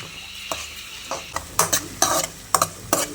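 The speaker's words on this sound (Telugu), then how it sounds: "ఉల్లిపాయలు మగ్గించుకుంటున్నాం కదా దీన్ని ఒకసారి తిప్పుతున్నా మాడిపోకుండా" Onions frying for a ridge gourd and dried fish curry are stirred in a pan, a steady sizzle broken by a series of sharp scraping strokes that grow louder and quicker toward the end, with no talking.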